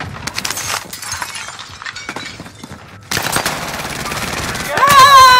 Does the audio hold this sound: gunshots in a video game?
yes